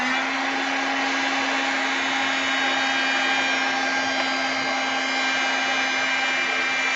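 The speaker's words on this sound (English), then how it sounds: "I love that heat gun for embossing." A handheld embossing heat gun blows over shrink plastic with a constant loud whooshing hiss and steady motor hum, unbroken for several seconds with no talking.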